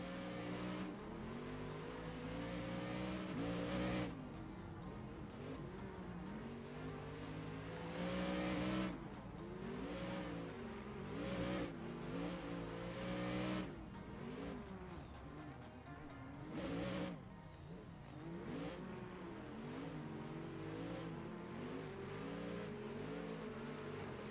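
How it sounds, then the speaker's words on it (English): Racing cars in a video game chasing a GTR, engines revving loudly and continuously with repeated rises and falls as gears shift, and occasional tire squeal across a long stretch of driving. "apparently we're chasing this GTR now"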